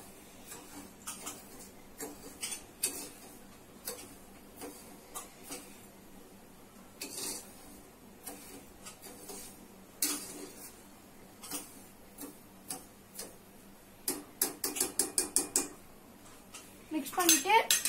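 A spoon stirring two glasses of water in a metal pot while making rasgulla, with rapid clinking and ticking against the pot, which grow quicker and louder toward the end.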